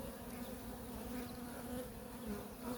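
Honey bees hum in a soft, steady drone on a hive frame holding brood and drone brood, faint and continuous with no talking.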